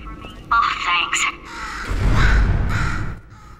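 Crow cawing in the Portal 2 video game, a few harsh calls in short bursts, fairly close and loud, mixed with a speaking voice and game background sound.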